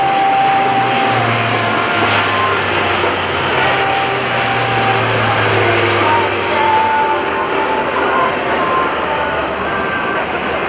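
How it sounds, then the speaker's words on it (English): Military helicopters and a C-23 aircraft fly a formation pass in a combined arms demonstration at the 2011 Rhode Island Air National Guard airshow, a steady loud roar of engines and rotors with a droning hum, an announcer's voice over it. "The helicopter force and the C-23 will form up for a formation pass."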